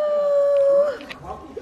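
Puppy howling in a home: a sustained, steady high howl that breaks off into softer whimpers and small yips, close and fairly loud, with light background noise.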